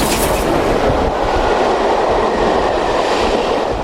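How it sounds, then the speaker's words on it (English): A Class 33 diesel paired with a Black 5 steam locomotive hauls empty coaching stock past a trackside spot at Upton Scudamore, a loud, close, continuous roar of engine and rolling wheels with rhythmic rail clatter throughout. "And now a couple of diesel and steam combos."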